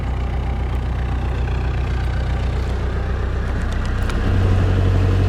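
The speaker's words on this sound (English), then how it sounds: "the engine's running sweet" Diesel engine of a narrowboat running steadily, a close, even low throb with a hum that thickens slightly near the end.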